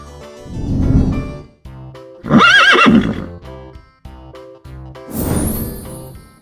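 A horse neighs twice in loud, clear whinnies, with another horse sound at the end, each separated by short gaps and no talking in between.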